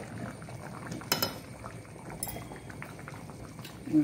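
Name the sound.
Mangalorean sorekai sambar boiling in a covered pot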